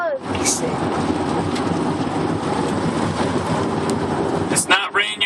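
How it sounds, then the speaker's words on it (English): Insects strike a car windshield in a constant dense patter like heavy rain, a steady crackling wash heard from inside the moving vehicle throughout. "it's bugs you're hearing. It's bugs' guts going on the window."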